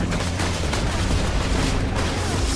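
Assault rifle gunfire in the video game Borderlands 2, a dense, continuous burst of loud booming shots filling the whole stretch with no pauses.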